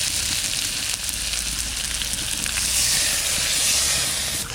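Water hitting a hot pan of crab curry made with freshly caught field crabs, a loud, steady hiss and sizzle that swells slightly partway through and carries on without pause.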